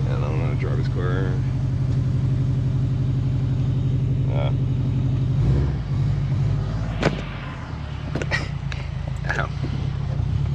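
Car engine rumbling steadily while driving, a low continuous drone up close, with thumps and voices breaking in over the second half.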